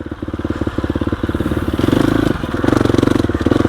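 A 2021 GasGas EX 350F dirt bike climbs a technical trail in first gear, its single-cylinder engine pulsing in a fast, loud, even beat that swells slightly as the throttle opens, close up.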